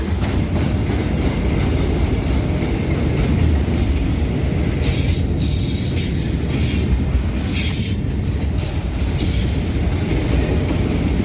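Freight train wagons of a Thai railway roll past close by, with continuous loud rumble, wheel squeal and a faint clickety-clack running steadily through the whole stretch without any talking.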